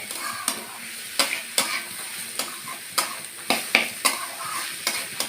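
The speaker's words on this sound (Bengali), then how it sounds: "সামান্য একটু নাড়াচাড়া দিয়ে নিলাম" Lentils being stirred in a frying pan, with about a dozen quick, sharp spoon scrapes in an uneven rhythm over a soft, steady sizzle.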